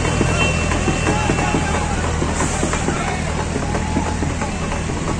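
A Massey Ferguson 8055 tractor in Shamli, Uttar Pradesh, hauls a record line of 31 loaded trolleys, its engine giving a steady, heavy low drone with rattling and clanking mixed in, loud and continuous.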